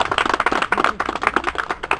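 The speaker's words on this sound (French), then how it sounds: "moi je pense qu'on peut nous applaudir" Dense applause from a crowd, rapid overlapping claps filling the whole stretch at steady loudness, close and lively.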